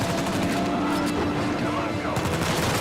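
Enemy machine gun fire in the Uncharted 4 video game crackles in loud, dense bursts that run almost without a break through a busy battle mix.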